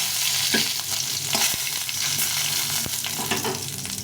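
Dried red chili, white cumin and bay leaf fry in a little oil, a continuous crackling sizzle up close with occasional sharp spatters and light stirring, no voice over it.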